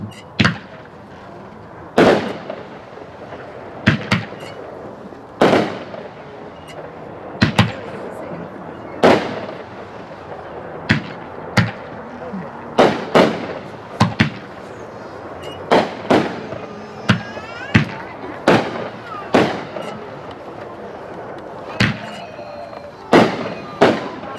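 A Hot Shot Golden Rule 12-shot 350 gram firework cake fires, a dozen sharp outdoor booms spaced a couple of seconds apart, some with crackling tails and whistling.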